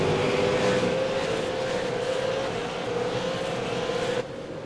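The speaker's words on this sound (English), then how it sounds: "Cars spreading out fairly quickly on restart." Race cars spread out around a circuit after a restart, a steady engine roar holding at constant loudness from start to finish and then dropping sharply near the end.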